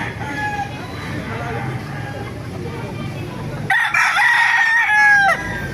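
Roosters crow among other gamefowl at a Baliuag tyangge market, one loud crow rising clearly near the end over steady crowd noise and chatter, with someone talking throughout.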